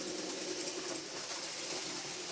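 A small model train runs continuously with a soft, steady whirring hum and a faint rattling rhythm, fairly quiet and without voices.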